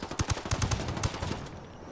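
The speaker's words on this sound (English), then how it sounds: "I'm tossing in a flashbang." Flashbang going off in the tactical shooter Ghost Recon Wildlands, a burst of sharp bangs and crackling gunfire-like reports over about a second, fading into a ringing tail, fairly close and loud with no talking.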